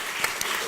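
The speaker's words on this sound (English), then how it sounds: "If we can give him a round of applause." Brief burst of audience applause at an ad tech startup awards ceremony, a short patter of claps at moderate level with no voices.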